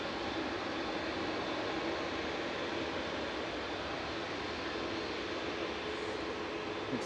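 British Airways shuttle airliner taxiing at Manchester Airport, a steady, moderately distant jet engine rumble and hiss that stays even throughout, with no voices.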